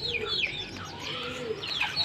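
Pet pigeons in their enclosure coo in low, rolling tones beneath sharper chirps from other birds nearby, a close and busy mix that runs without pause.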